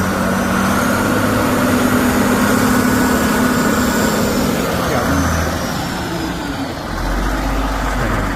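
A 1986 John Deere 4050 tractor engine runs loud and close as a steady, rough diesel drone, dipping briefly and then settling back to an even idle.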